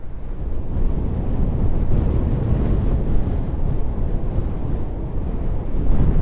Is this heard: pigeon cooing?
no